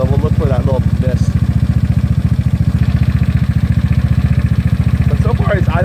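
A small GY6 scooter engine with a 30mm PWK carburetor idles with a fast, even putter close by, while someone talks briefly over it at the start and end.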